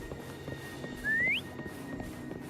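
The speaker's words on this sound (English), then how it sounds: "Try whistling." A single short rising whistle, sounded to call a mount in the video game Wuthering Waves, rings out clearly over soft game music and faint footsteps.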